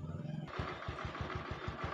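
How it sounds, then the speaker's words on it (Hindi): A Honda Twister motorcycle engine cranks and catches, then settles into a steady rapid putter at idle, close by. "चलिए स्टार्ट करके मैं आपको दिखाता हूँ"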